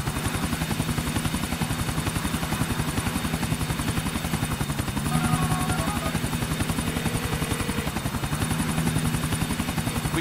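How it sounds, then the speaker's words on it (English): Helicopter in the video game GTA IV, a continuous rapid rotor thump with a droning engine whine, loud and steady throughout. "We shut down that chopper for you."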